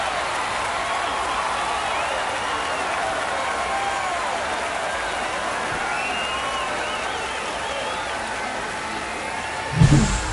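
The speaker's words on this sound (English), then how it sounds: "He just sparked this home crowd in a big way." A home crowd at a college baseball game between Oklahoma and Auburn roars and applauds after a home run, a steady wash of cheering under a commentator's voice, with a sharper burst near the end.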